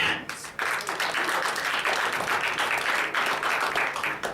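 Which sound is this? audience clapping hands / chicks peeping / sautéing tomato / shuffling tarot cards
audience clapping hands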